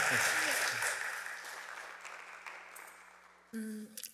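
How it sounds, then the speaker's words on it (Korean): A congregation at an early-morning church prayer service applauds, loud at first and then fading away. A voice briefly speaks as the clapping dies out. "여기 계신 분들도 이제 박수로 보시도록 하겠습니다"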